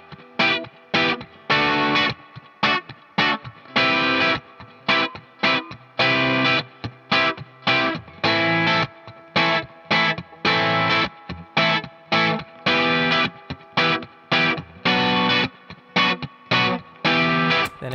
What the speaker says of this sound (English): Now the guitar solo is actually played over the verse progression.